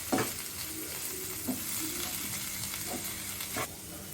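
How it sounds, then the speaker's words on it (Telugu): Prawn gravy spiced with turmeric, salt and chili powder sizzles steadily in a pan while it is stirred, with a few scraping strokes of the spoon against the pan. No one speaks. "ఒకసారి బాగా కలుపుకుందాం మళ్ళా"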